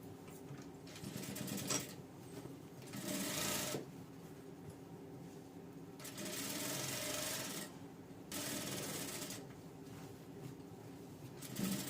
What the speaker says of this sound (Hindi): इसे भी हम सिलाई लगा देते हैं।